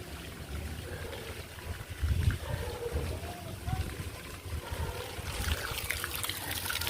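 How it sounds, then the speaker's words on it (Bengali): Dirty, iron-laden yellow water draining out of a household water filter tank, a steady low trickling and gushing flow heard close up throughout. "নোংরা জলটা বাইরে বের করে দেওয়া হচ্ছে"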